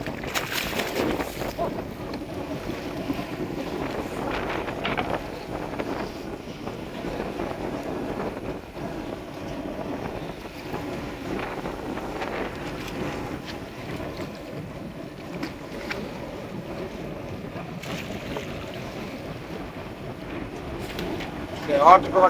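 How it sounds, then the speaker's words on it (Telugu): Strong wind at sea aboard a fishing boat, a steady roaring rush with buffeting on the microphone that continues throughout, with someone talking over it at times. "గాలి చూసారు కదా ఎంత ఎక్కువ ఉందో."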